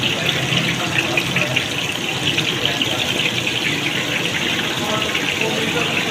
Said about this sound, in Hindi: ये फ्राई होना शुरू हो गया है। तो ये इसकी झाग फल रही है।